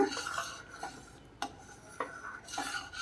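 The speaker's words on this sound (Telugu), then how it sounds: "అలా మధ్య మధ్యలో కలుపుకుంటూ కొంచెం కొంచెం నెయ్యిని యాడ్ చేసుకుంటూ పాకం వచ్చేంత వరకు కూడా అలాగే దగ్గర పడేంత వరకు ఉడికించుకోవాలి" Wheat semolina prasadam cooking with ghee in a pan, a spoon scraping and stirring in a handful of separate close strokes over a soft background hiss, with no voices.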